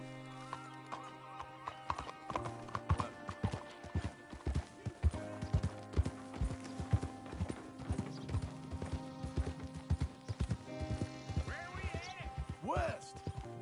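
Rhythmic clip-clop of horse hooves trotting steadily up close in the video game Red Dead Redemption II, a faint whinny near the end, over a background music bed.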